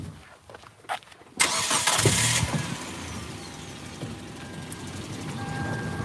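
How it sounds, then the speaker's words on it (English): A car engine cranks briefly, then catches with a loud roar and settles into a steady idle, heard from inside the vehicle. "get the engine going"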